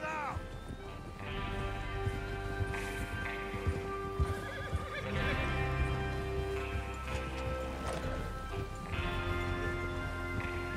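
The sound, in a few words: horses neighing and galloping in video game Red Dead Redemption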